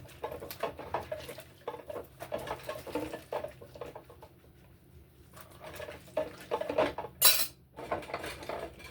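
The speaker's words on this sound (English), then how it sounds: "washing dishes on a bar stool" Dishes being washed by hand at a sink, with pots clanking and cutlery clattering in a busy, irregular rhythm, close and moderately loud, with a few sharper metallic clinks.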